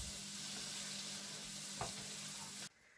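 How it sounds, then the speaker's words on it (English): A sweet corn and tomato mixture cooks down in a pan, giving a steady soft sizzle that cuts off abruptly near the end. "So I'm just going to let that cook for a few minutes again until the liquid has gone"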